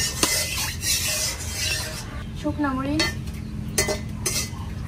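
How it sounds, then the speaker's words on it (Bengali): Dried red chillies fry in oil in a wok, stirred with a metal spatula; close scraping and clinking over a low sizzle, with a brief squeaky tone in the middle. "শুকনা মরিচটা ভাজা হোক।"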